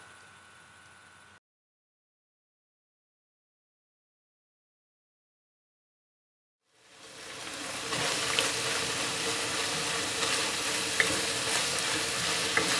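Two and a half pounds of lean ground beef with diced white onion hits a hot pot, after a short quiet stretch, with a loud, steady, crackling sizzle that continues unbroken, close by.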